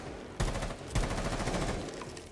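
Gunfire in Rainbow Six Siege after rappelling in, a dense burst of rapid automatic shots starting sharply, with a second onset midway, loud and continuous to the end.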